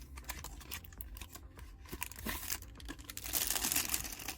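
Packaging for a Caseology SkyFall clear iPhone 12 case being opened, giving dense, close plastic crinkling and rustling that grows louder and busier toward the end, with no talking.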